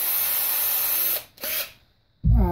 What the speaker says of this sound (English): we're gonna drill holes for the wire to come through